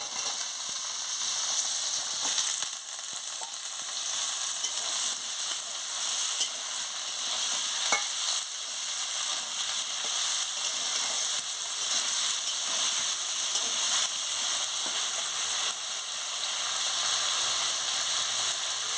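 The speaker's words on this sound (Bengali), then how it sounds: "আলুটা পেঁয়াজের সঙ্গে ভালো করে একটু ভেজে নেব" Potato pieces fry with already browned onions in a pan while cooking jhinge posto, giving a steady, bright sizzling hiss that continues evenly, with occasional faint clicks from stirring and no speech.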